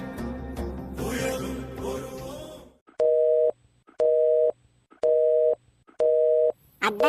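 Telephone line tone heard while placing a call: four evenly spaced, steady beeps after a noisy opening stretch of muffled voices and background sound.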